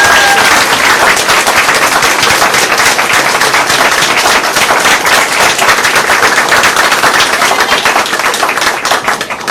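A council meeting audience gives a volleyball team loud, sustained applause, with dense, continuous clapping filling the room from start to finish.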